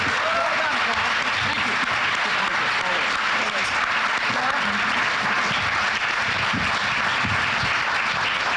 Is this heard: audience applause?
yes